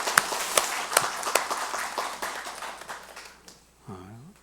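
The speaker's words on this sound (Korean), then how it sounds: "우리 성가대 금년 한 해 동안 수고 많이 하셨는데 고생했다고 박수 한번 보내주시죠." A church congregation applauds the choir at a year-end Sunday worship service, with dense clapping for about three seconds that fades out, followed by a brief voice.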